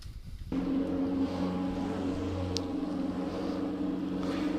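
Engine drone from 1979-era F1 race cars gathered on the grid at Laguna Seca in an online racing game, starting abruptly and holding a steady, moderate hum with layered engine tones and no talk.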